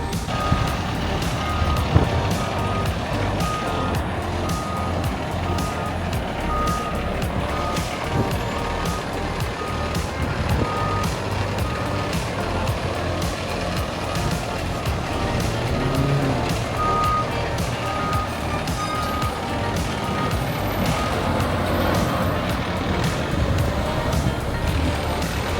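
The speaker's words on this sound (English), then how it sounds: "we're here as the fire truck for Hook and Ladder number 8 is coming back" FDNY Hook and Ladder 8 fire truck backs into its New York firehouse, with repeated reversing beeps sounding steadily over a rumbling engine and busy street noise for the whole stretch.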